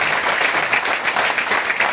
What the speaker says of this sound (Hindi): एक बार मैं जोरदार तालियां चाहूंगा जेपी मौर्या जी के लिए।